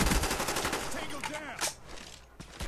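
Gunfire from an AK-47U fitted with a grenade launcher on the Firing Range map of a multiplayer shooter, with rapid automatic bursts in the opening seconds that thin out later, and no talk.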